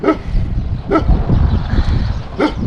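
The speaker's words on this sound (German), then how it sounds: "der Hund sagt Hallo zu euch auch." A dog gives three short, sharp barks spaced a second or more apart over a steady low rumble, likely wind or movement, on a walk through a wetland nature reserve.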